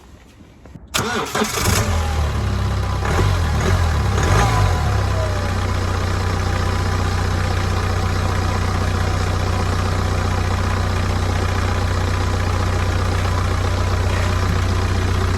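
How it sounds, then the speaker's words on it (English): A BMW 3 Series diesel car engine cranks briefly and catches, then settles into a steady, loud idle rumble that continues to the end. "Let's fire the car up and just make sure we've got no silly nonsense going on."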